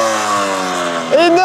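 A homemade motorized BMX engine is kick-started and revs up sharply near the end, its rising whine following a low rumbling idle, with people talking over it.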